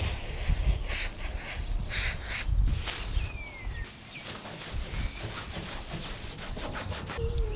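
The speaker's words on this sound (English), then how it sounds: "now I'm just going to clean down the areas with a bit of degreaser just to make sure that they're all clean" A cloth rubs degreaser over the body panels of an R32 Skyline drift car being prepped for paint, making brisk, rhythmic scrubbing strokes with short pauses between passes.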